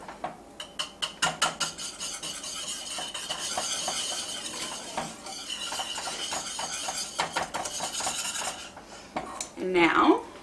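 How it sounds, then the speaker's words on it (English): Metal whisk beating a lemon chiffon cake mixture in a bowl, quick rattling clinks in bursts, close and clear, pausing briefly before resuming, with no voices. "We're going to whisk that in."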